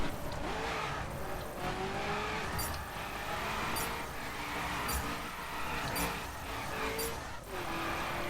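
A drifting car in The Crew racing game, its engine revving steadily with tire squeal running throughout and brief sharp accents, loud and continuous.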